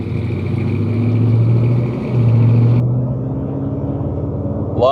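A 1976 Chevrolet Silverado C20 crew cab with a 454 cubic-inch V8 drives along with a steady, low engine rumble that swells briefly as it pulls, with no talk over it.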